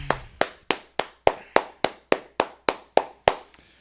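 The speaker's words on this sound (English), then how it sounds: "Clap it up." Sharp, evenly spaced claps ring out about a dozen times at a steady beat, close and distinct, with no speech over them.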